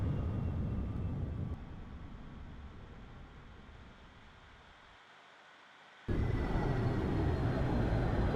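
Simulated F-4 Phantom jet in X-Plane 11 taking off from Paro, Bhutan: a steady roaring engine rumble that dips in the middle, nearly drops out, then surges back loud and broad.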